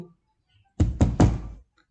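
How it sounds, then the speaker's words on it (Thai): Three firm knocks on a room door, a sound effect in a Thai romance audiobook, come in quick succession, close and loud, with silence before and after. "ระหว่างนั้นก็มีเสียงเคาะประตูดังขึ้น"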